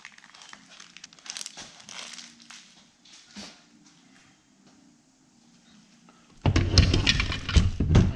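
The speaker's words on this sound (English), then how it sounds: "Get these out of the bag." Plastic bag crinkling as four mounting bolts for a new Procar seat are pulled out during a 1965 Mustang seat install, with soft rustles early on and a loud, close burst of crinkling near the end.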